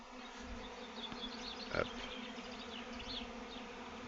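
A swarm of honey bees arrives at a hive, a dense continuous buzzing all around, with someone briefly speaking over it.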